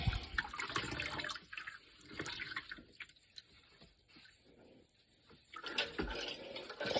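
Water strained and wrung out of freshly rinsed, washed yarn, a wet splashing and dripping stream that swells and eases in uneven bursts, close and fairly loud, with no talking.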